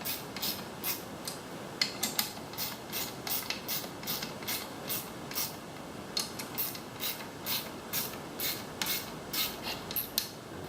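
Bolts on the PTO clutch of a Honda HT3813 lawn tractor are tightened with a ratchet, giving close, rapid bursts of sharp clicking in an uneven rhythm with short pauses between runs.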